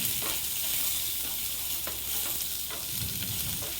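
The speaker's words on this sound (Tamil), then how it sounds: "இப்போ நல்லா இதை வதக்கிக்கலாம்." Garlic, green chilies and shallot sauté in a pan for coriander chutney, a constant close sizzle with faint spoon scrapes now and then throughout.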